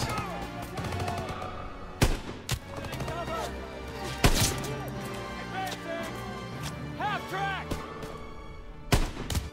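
Gunfire in Call of Duty: WWII, with sharp loud shots at intervals over a busy bed of music and battle noise, and someone talking over it.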